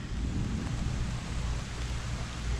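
Steady rain falling close by around a beehive colony, a dense even hiss with a low rumbling undertone running unbroken throughout.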